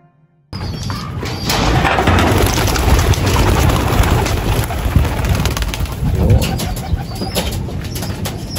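Pigeons flying from a loft in the morning flutter and coo close by, with a steady rush of wings and rustling that continues without a break.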